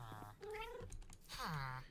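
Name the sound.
cat meowing in the video game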